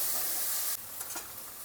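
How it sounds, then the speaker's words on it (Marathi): Tomatoes sizzling in a hot pan while being mixed, a bright steady hiss that drops after a moment, followed by a few soft stirring scrapes, close and continuous with no voices. "याला मिक्स करून घेऊयात आता"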